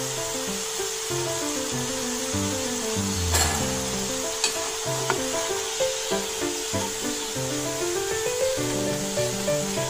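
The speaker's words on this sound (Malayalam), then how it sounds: "ഇങ്ങനെ തന്നെ നമുക്ക് എല്ലതും ഫ്രൈ ചെയ്തെടുക്കാം" Falafel deep-frying in hot oil, a steady close sizzle throughout with faint scraping and stirring taps.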